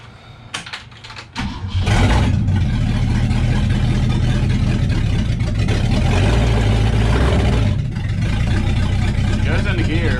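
A 1966 Ford Galaxie with a 390 FE V8 runs in gear on an old transmission that has sat unused, a few clicks and knocks giving way to a loud, steady engine rumble.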